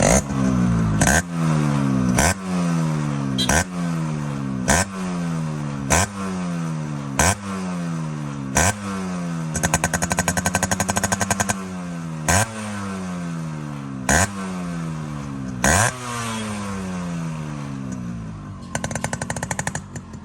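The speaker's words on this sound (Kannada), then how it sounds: "ಇವಾಗ ಸೈಲೆನ್ಸರ್ ನೋಟು ನೋಡಿ ಹೆಂಗೆ ಬರುತ್ತೆ ಅಂತ ಹೇಳ್ಬಿಟ್ಟು" A restored Yamaha RX135 5-speed two-stroke motorcycle revs repeatedly through its exhaust silencer, each sharp throttle blip rising and falling in a rhythmic series. The engine crackles loudly and close, with a longer sustained rev midway.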